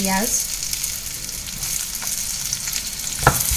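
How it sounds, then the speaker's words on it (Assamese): Sliced onions sizzle in hot oil in an Indian kadai wok, a steady close hiss of frying with faint stirring scrapes and a brief clink near the end. "পিঁয়াজখিনি প্ৰথমতে মই অলপমান ভাজি ল'ম"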